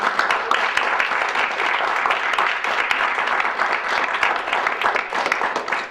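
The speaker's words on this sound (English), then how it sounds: "Round of applause." A school board meeting audience gives a sustained round of applause, a broad wash of clapping that holds steady and begins to taper near the end.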